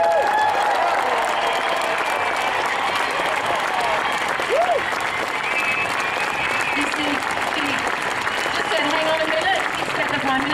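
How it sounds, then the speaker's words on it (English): A large outdoor crowd cheers and applauds continuously for Jessica Watson at her arrival in Sydney, a steady dense roar of clapping with shouts and voices mixed in throughout. "Give her a final cheer for this moment."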